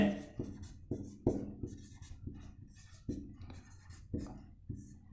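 Chalk or marker strokes on a classroom board while a class 8 maths problem is worked out, a run of short scratchy taps and scrapes in an irregular rhythm, close and fairly quiet.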